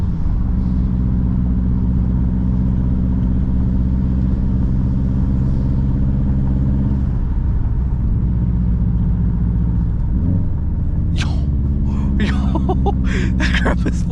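A highly modified turbocharged car drives along a canyon road, its engine droning steadily and loudly, then near the end a burst of rapid turbo flutter chatters over the low rumble.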